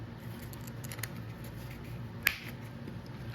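Small removable scissors slide out of a multitool sheath, giving a single sharp, close click amid faint handling noise and a few lighter taps.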